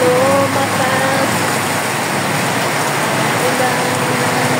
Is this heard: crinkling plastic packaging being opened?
no